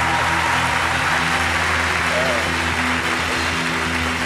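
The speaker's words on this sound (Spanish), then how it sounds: "yo pido un fuerte aplauso para Noel" A large live-show audience applauds loudly and steadily throughout, a dense wash of clapping with a low hum beneath and some voices mixed in.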